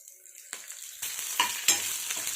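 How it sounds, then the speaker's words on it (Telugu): Green chillies drop into hot oil and a soft sizzle starts up, with a few brief crackles and pops, quiet and close by. "ఇప్పుడు పచ్చిమిర్చి వేసుకుందాం."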